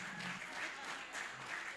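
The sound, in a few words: audience applause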